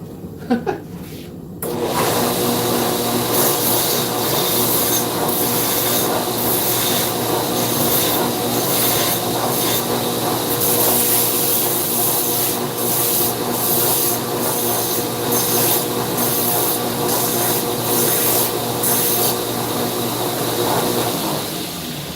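A forged steel punch being cleaned up on a grinding or sanding machine in a forge shop, a loud continuous abrasive whine that starts abruptly and holds steady for about twenty seconds, close and with no talking.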